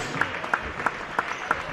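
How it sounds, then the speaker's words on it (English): A crowd in a college basketball gym applauds senior athletes, with sparse, evenly spaced claps at a moderate level and a faint hum of voices beneath. "let's applause for our senior basketball athletes"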